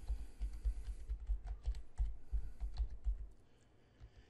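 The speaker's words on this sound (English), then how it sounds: "Now I'm going to input the password for that particular user." Rapid keystrokes clatter on a computer keyboard in quick irregular bursts, close and quiet, trailing off near the end with no voice.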